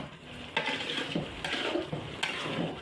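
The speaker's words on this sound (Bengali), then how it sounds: "এবার মিক্স করে নেব" A spoon mixes fried rice and boiled lentils together in a pot for bhuna khichuri, making several close scraping, rustling strokes at a steady pace with small clinks against the pot.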